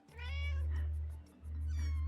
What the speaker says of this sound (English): every time the kitten meows, I feel like I'm going to die inside